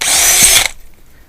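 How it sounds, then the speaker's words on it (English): A power drill whirs loudly at high speed for about half a second while drilling a hole in a wall, then cuts off abruptly, leaving near silence. "I'm going to drill another hole here"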